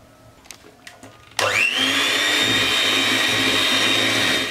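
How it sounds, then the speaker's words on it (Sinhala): An electric beater whirs to life after a few quiet knocks, then runs at a loud, steady high-pitched drone as it beats butter cake batter for a coffee cake. "අපි ඉතුරු හැමදේ ටිකක් දාලා බීට් කරගමු."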